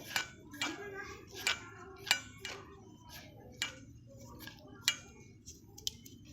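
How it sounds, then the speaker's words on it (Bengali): A spoon clinks and scrapes rhythmically against a bowl while gram flour and salt are mixed, about a dozen sharp taps spaced unevenly over a soft background. "লবণ দেব অল্প করে দিয়ে ভালোভাবে মিক্সড করে নেব এইভাবে"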